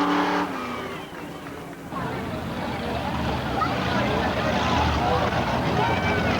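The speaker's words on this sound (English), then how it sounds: "now bringing back the checkered flag, let's hear it for Ray Moses in car number 13" Race cars on a short track at a 1990 feature event at Norway Pines, a continuous engine roar from the field under a loudspeaker announcer's voice.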